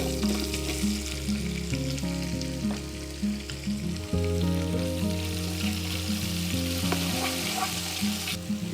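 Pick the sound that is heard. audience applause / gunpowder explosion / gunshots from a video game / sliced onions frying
sliced onions frying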